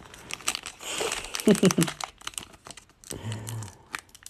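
A Pokémon card booster pack being torn and crinkled open, several close crackling rips and rustles of foil, with a person talking over parts of it.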